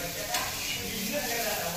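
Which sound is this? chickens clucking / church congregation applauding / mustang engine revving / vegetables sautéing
vegetables sautéing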